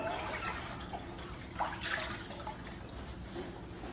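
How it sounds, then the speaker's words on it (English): A medical instrument is washed in water with a sterile cloth, soft sloshing and trickling liquid sounds that are fairly faint and close, with a few slightly louder splashes midway. "We're just going to wash it."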